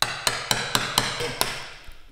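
A chisel is struck by hand, most likely with a mallet, to chop out a wooden dovetail housing joint, giving six sharp, close knocks at a steady, even pace and then a fainter tap.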